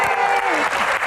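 A comedy Q&A audience at an Indonesian film director's stand-up event claps steadily, a dense continuous patter of many hands filling the room, loud and close without pauses.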